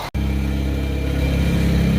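A tractor engine runs close by with a steady, throbbing mid-range drone as it is driven around, holding an even level after a brief silent gap at the very start.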